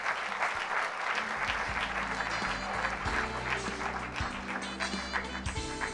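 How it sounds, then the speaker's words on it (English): An audience at an education awards ceremony in San Diego applauds steadily, a full crowd of clapping hands with a low background hum running beneath. "Let's give them another round of applause."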